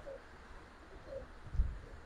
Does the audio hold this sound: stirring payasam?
no